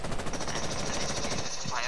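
Loud, rapid automatic gunfire from enemies pre-firing in a video game, a dense unbroken rattle of shots lasting the whole moment, with faint voice chatter underneath.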